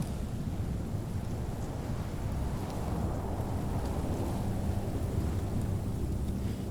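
Storm in The Pillars of the Earth video game: a dense, constant low roar of wind and rain with deep rumbling that suggests thunder, steady throughout with no voices.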